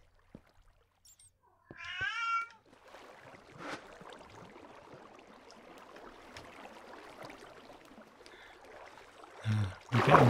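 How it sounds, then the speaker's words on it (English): A cat gives a loud, drawn-out meow, followed by a long stretch of softer rustling and background noise, with another short cry near the end. "We're getting kitty meowing time."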